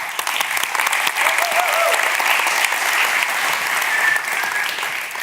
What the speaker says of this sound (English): So please give a round of applause for our first speaker